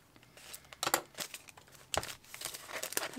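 Crinkling and tearing of a stationery package from Japan being opened by hand, quiet and close, with a few sharper rips and rustles in quick bursts.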